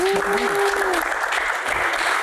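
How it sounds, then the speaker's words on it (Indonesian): Applause from an audience at a Q&A talk session fills the clip, a steady dense clatter of many hands with a brief sustained tone over its opening second. "Tepuk tangan luar biasa."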